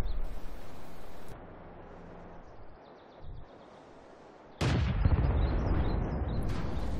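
World of Tanks game audio with artillery fire: a sharp blast and burst near the start, then quieter rumbling, and a second loud boom around the midpoint that sustains with heavy crackling into the end. No talk.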